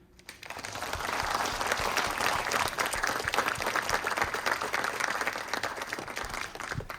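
A planetarium crowd at Ball State University's Astronomy Slam claps steadily and fairly loudly for several seconds after a quiet start, forming a dense, sustained wash of applause.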